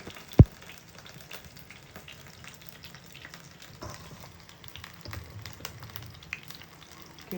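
Chicken frying in a pan while being stirred, giving a soft, continuous sizzle with scattered faint scrapes, plus one sharp knock near the start.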